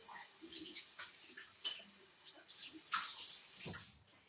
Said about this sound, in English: I'm giving my jars a final rinse.